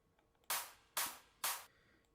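Three sharp, bright future bounce clap hits spaced evenly apart, each with a short noisy decay, fairly quiet overall.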